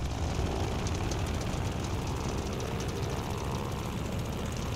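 A World War II fighter plane's engine revs steadily in Call of Duty Vanguard, a loud continuous broadband roar holding at an even level throughout with no voices over it.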